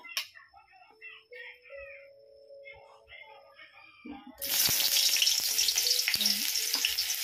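Onions drop into hot cooking oil partway through, bursting into a loud, continuous sizzle that fills the rest of the clip, after a quieter stretch of talking.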